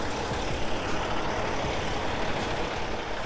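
An 18-wheeler car hauler rolls along at night, its engine and road noise forming a loud, steady rumbling roar close by with no talk.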